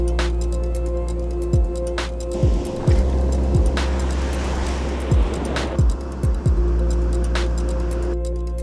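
Steady engine drone and tonal hum from inside a car driving home from saltwater striped bass fishing in New Jersey, with repeated short thumps and clunks from road bumps and occasional swelling road noise, no talk.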